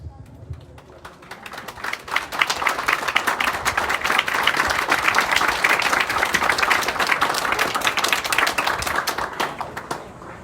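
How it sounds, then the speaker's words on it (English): Sustained audience applause at a maritime academy recognition ceremony for the midshipman fleet, swelling from a few claps into a dense, loud ovation that holds for several seconds before tapering off. "Let us give them a warm round of applause."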